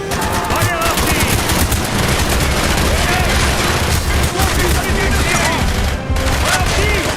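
Dense, continuous automatic gunfire and explosions from the Call of Duty: Black Ops mission Project Nova fill the scene loudly, with shouted soldier voices mixed in.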